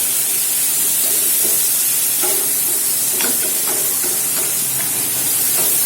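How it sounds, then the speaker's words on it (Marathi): Chopped onions and tomatoes stirred in a hot pan, a loud continuous sizzle and hiss with scraping stir strokes, close up and with no talk. "आता याला छान मिक्स करून घ्यायचं"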